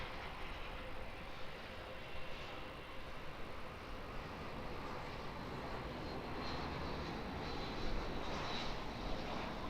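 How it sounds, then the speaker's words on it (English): An Airbus A320neo airliner taxiing out for departure at Auckland Airport gives a steady, fairly distant jet engine drone with a broad rushing hiss that holds evenly throughout, with no voices. "So an A320neo. That'll be heading out for a departure."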